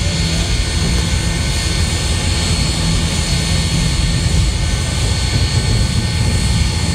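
Southern Railway 4501 steam locomotive, repainted as a Norfolk and Western engine, running on the Missionary Ridge Local with a steady, loud, continuous rumble and roar and no break in the noise.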